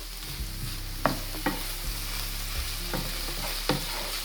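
Spinach and tomatoes seasoned with all-season, paprika and pepper fry in a pan with a steady sizzle, punctuated by several sharp utensil scrapes and clinks as the food is stirred. No one speaks.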